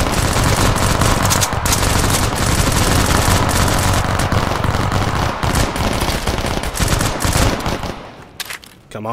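Sustained airsoft gunfire during a milsim raid reenactment, loud, close, rapid strings of shots and overlapping bursts that run continuously before fading near the end.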